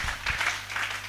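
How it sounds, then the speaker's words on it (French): Church congregation applauding together, a broad steady wash of clapping at moderate distance that swells and eases slightly through its short length. "Applaudissons le Seigneur Jésus-Christ."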